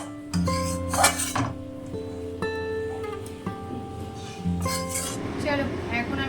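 A pot of rajma (kidney beans) with potatoes in oil is stirred, with a metal spoon clinking and scraping against the pot in short bursts. Ringing tones and faint background sounds fill the gaps between the strokes.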